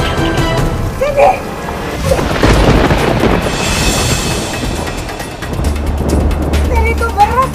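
Steady rain pours down with a low rumble of thunder rolling through, loud and continuous, during a storm outside a home.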